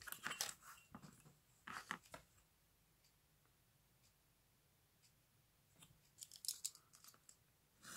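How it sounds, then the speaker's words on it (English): Scissors cut through a card box at its seam, quiet close snips in two short clusters at the start and end, separated by a near-silent stretch, with no talking. "I'll cut it off at that seam."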